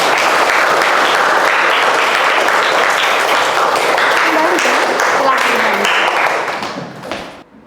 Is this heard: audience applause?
yes